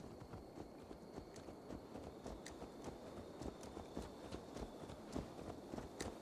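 Horse hooves clip-clop at a steady walking pace in Assassin's Creed Valhalla, a soft, even rhythm of hoofbeats over a low ambient game background.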